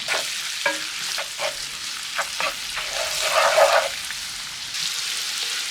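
A tadka of green chillies and Kashmiri red chilli powder sizzles in a pan over medium heat, giving a steady crackling fry with a few stirring taps and a brief louder burst midway. No voices.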